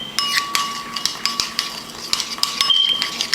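A utensil stirs garlic sauce seasoned with salt and pepper in a kitchen, making quick, irregular metallic clinks and scrapes against the bowl. The sound is close and clear, with no talking.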